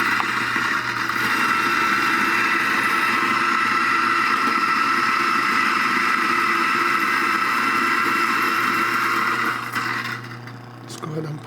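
A Eureka Mignon Zero coffee grinder runs steadily on Nicaragua beans, giving a loud, continuous motor whir that holds for about nine seconds before winding down and falling quieter.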